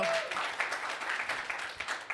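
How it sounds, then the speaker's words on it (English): A brief round of applause for Erin Matson from an audience at a conversation event, steady moderate clapping throughout. "can we give another round of applause for Erin Matson, please?"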